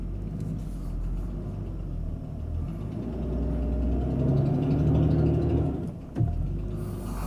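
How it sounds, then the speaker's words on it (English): An old Jaguar engine with a bad condition runs in a low, steady rumble that swells and grows rougher, then cuts out abruptly with a short thump near the end. "The last time that this old engine runs."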